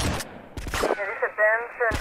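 Gunfire from the player's weapon in Grand Theft Auto: Vice City, a few short bursts of shots mixed with game sound and a voice talking over them.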